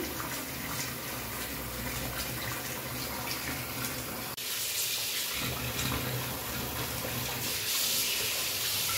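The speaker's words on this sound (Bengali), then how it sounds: "এখন মাছটা ধুয়ে নিই" Tap water running steadily while raw fish is washed in a sink, a continuous close splashing gush that grows louder and brighter partway through as the flow increases or hits the fish.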